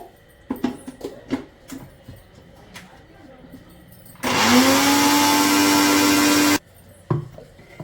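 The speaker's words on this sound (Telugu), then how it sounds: "ఇక కరివేపాకును ఇక కారపొడి మిక్సీ పట్టినా కదా" A kitchen mixer grinder whirs loudly for a couple of seconds, grinding curry leaves with chili powder, framed by clattering handling and a person talking before and after the run.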